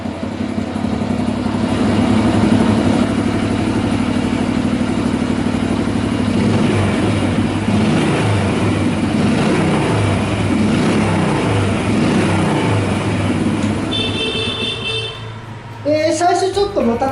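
A Honda Super Cub motorcycle engine idles steadily while warming up, a close, even putter that runs throughout before a few brief, higher sounds near the end.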